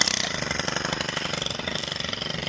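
A string trimmer edging a lawn along the grass edge, its engine buzzing steadily and loud up close with a fast pulsing whine, no talking.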